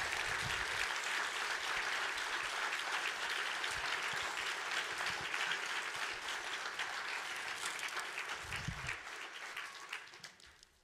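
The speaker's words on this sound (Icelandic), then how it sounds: "Gefum honum gott klapp." Audience applause at the opening of an Icelandic environmental assembly, a broad sustained clatter of many hands in a hall that holds steady, then thins and fades out toward the end.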